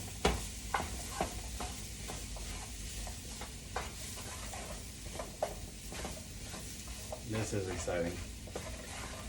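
Garlic and sliced white mushrooms sizzle steadily in a hot pan over medium-high heat, with sharp scraping stirs and utensil clicks throughout; a person speaks briefly near the end.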